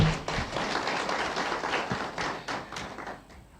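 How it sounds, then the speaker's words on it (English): Audience applause at a formal peacebuilding report launch in Nairobi, a dense, steady spatter of many hands clapping that fills the room for several seconds before slowly thinning out. "Another round of applause to the Archbishop."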